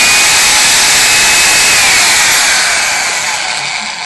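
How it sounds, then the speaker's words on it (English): A homemade drill press bores through thick steel plate with a steady, loud, high-pitched whine and grinding hiss that holds constant, then slowly fades toward the end. "it's not really something you like to do when you're drilling through 8 1/2 inch steel plate"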